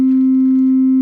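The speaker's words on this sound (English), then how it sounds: "This is just a synth tone, and it's a single sine wave note." A single synthesized sine wave note holds perfectly steady and loud, a pure unwavering tone with no other sound.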